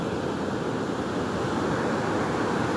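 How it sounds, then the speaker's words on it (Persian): Sea waves wash steadily onto a beach in a continuous rushing roar, with wind noise on the microphone throughout. "ولی دریا خانوم میاد موجاشو کتونی من همه رو خیس میکنه"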